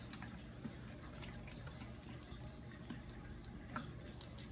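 Water runs and drips continuously, splashing lightly as newly unboxed African cichlids are rinsed off. Faint, steady trickling with small scattered drip sounds.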